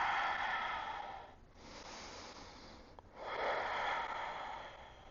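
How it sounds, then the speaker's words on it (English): Deep, slow breaths during a power yoga pose, a long airy exhale, then a pause and a second strong breath, close to the mic and fairly soft. "And breathe."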